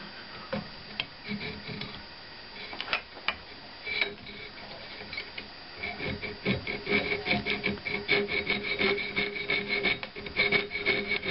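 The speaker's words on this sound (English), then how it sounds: "after a lot of sawing and filing and sanding" A file and sandpaper work the wooden body of a Rickenbacker-style bass by hand, a close, rhythmic scraping rasp that starts sparse and grows into steady continuous strokes during the second half.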